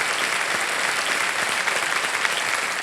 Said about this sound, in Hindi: वाह, ताली बज जाए।